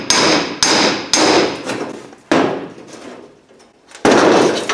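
A chisel knocks and pries chrome trim off a rotten Cadillac trunk lid, five sharp metallic cracks at uneven intervals, each ringing out and fading, close and loud with no talking.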